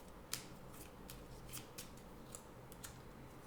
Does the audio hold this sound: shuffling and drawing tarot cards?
yes